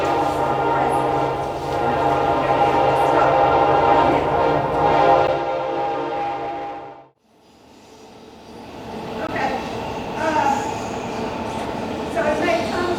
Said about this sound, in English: I think we'll get a train coming